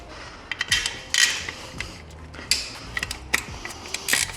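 Small metal clicks and ratcheting taps while a bolt is tightened on the coolant expansion tank of a Subaru during a turbocharger replacement, a scattered run of close, light mechanical ticks with brief pauses.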